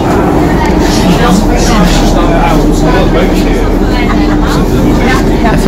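A night metro train rumbles loudly along the tracks, braking at a line junction with a squealing brake whine and steady mechanical roar close by.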